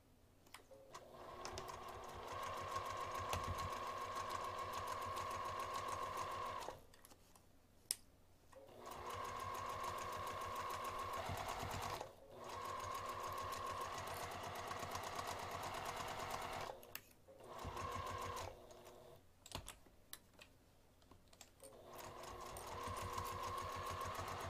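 A sewing machine runs a quarter-inch seam in long steady whirring stretches broken by short pauses, close and even throughout.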